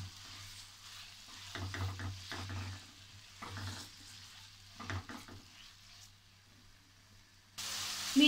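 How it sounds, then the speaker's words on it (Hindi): Chicken pieces frying in a pan over medium flame, a faint hiss with intermittent bursts of stirring scrapes, fairly quiet, followed by a louder surge of sizzle at the very end. "चिकन को भी हमने लाइट गोल्डन होने तक ऐसे ही फ्राई करना है।"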